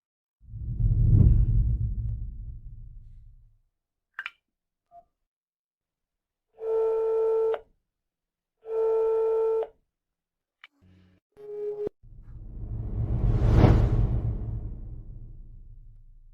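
A telephone is dialed, with a few short beeps followed by two long ringback tones and a brief burst of clicks, set between low whooshing rumbles at the start and end.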